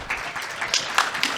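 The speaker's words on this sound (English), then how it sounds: "let's give the 3 of them a round of applause." Brief burst of audience clapping from a crowd, a dense patter of hands lasting only a moment.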